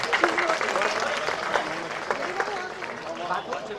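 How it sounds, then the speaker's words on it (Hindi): Crowd applause at a foundation-stone laying ceremony in Chhaprauli, Baghpat, steady dense clapping under scattered voices and chatter throughout. "एक बार सभी तालियां बजा दें"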